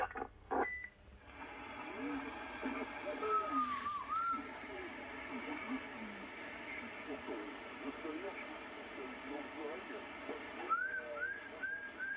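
Short rising whistle chirps carry over a crackly CB radio channel during a hunt, sent out to call hunting dogs back. A few come in the middle and a quick run near the end, all under steady static and hiss.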